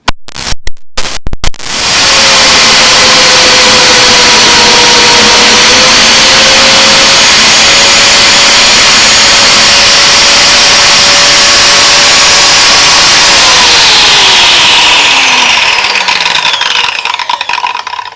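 An Erbauer EBJ860 biscuit jointer switches on after a few handling clicks and runs loud and steady with a high motor whine, then spins down with a falling tone at the end.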